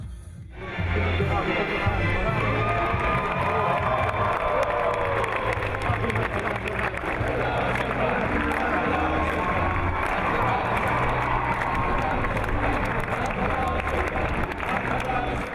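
A large crowd in fitted suits applauds vigorously at a horse ceremony in Turkmenistan, honoring an Akhal-Teke, a sustained loud clapping roar under waving flags, with narration speaking over it.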